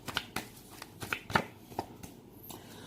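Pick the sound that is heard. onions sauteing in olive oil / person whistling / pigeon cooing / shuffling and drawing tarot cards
shuffling and drawing tarot cards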